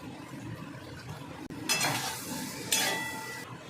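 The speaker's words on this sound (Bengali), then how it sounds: "1 চামচ হলুদ গুঁড়ো দিয়ে মশলাটা আমি ভালো করে নেড়ে সামান্য জল দিয়ে নেড়ে নেবো।" A spice masala with turmeric is stirred in a pan, first with soft scraping, then broken by two loud, hissing sizzle bursts as water hits the hot pan and settles.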